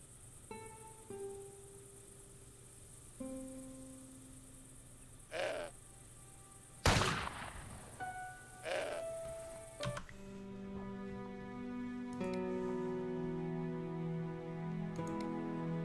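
A goat in Broken Sword 5 lets out several short bleats spaced a few seconds apart, faint and close, against a quiet backdrop of soft tones and ticks.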